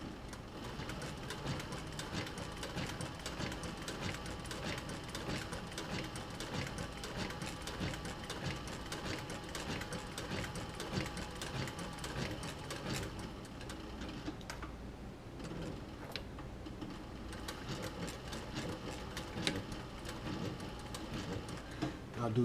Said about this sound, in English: here I'm sewing about 1/8 of an inch seam